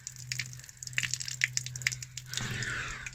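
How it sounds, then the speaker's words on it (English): Water runs and drips from an RV's fresh water tank drain, starting as faint trickles and splashes, then turning into a steadier gushing stream. "So drain your fresh water tank."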